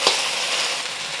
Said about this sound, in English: do you hear that sizzling? That's the pork frying in its own fat.